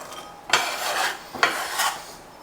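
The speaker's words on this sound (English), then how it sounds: "we're going to use this bench scraper again here" A metal bench scraper scrapes across a kitchen counter while cooking orecchiette with meatballs and sausage, making three quick, bright scraping strokes in succession, close and fairly loud.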